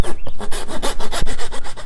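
Wood is sawn by hand with quick back-and-forth strokes, each rasping pass loud and close, forming a brisk rhythmic pattern.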